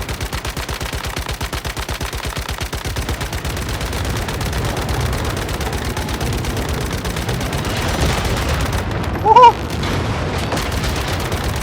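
Rapid automatic gunfire rattles continuously in the survival shooter Once Human, a dense, loud, evenly spaced stream of shots over roughly eleven seconds, with a brief louder burst near the end.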